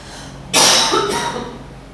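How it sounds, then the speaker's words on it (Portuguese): A single sharp cough, close and loud, with a short second burst trailing off after it. "Deixa eu tossir."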